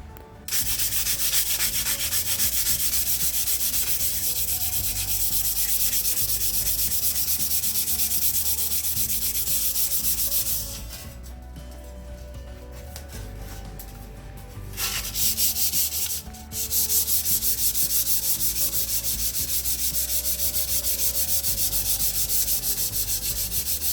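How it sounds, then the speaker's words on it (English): Long stretch of continuous close sanding on Jeep Grand Cherokee ZJ body armor being prepped for primer, a dense steady rasp with a few brief pauses partway through. "we'll get back when I'm done sanding and kind of show you"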